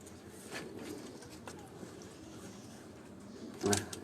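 Caged pigeons on a rooftop loft in Sialkot coo faintly and sporadically against a quiet ambient hum, with a brief louder knock near the end.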